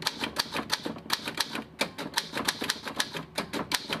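A typewriter clacks out lyrics in a quick, uneven run of sharp keystrokes, the strikes close and crisp with small pauses between bursts.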